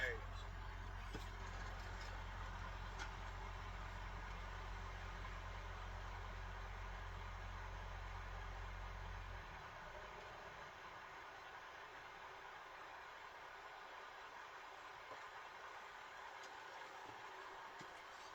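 A truck trailer refrigeration unit runs with a loud, steady low-pitched drone that cuts off abruptly about halfway through, leaving a quieter idling hum and faint background noise.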